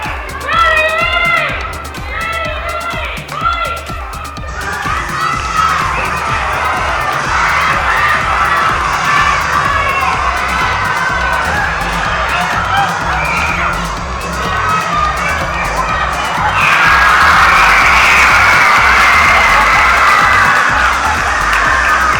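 A ring-side crowd cheers and shouts, with children's high voices prominent. The noise starts with rhythmic chanting, grows into sustained loud roaring and peaks near the end.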